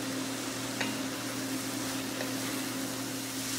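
Onions and carrots sauteing in a pot for black bean soup, a soft steady sizzle with a low hum underneath and a couple of faint utensil taps.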